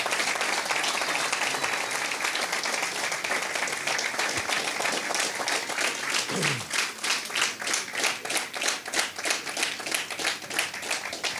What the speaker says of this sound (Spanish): Cuando se aplaude la palabra de Dios en esta noche.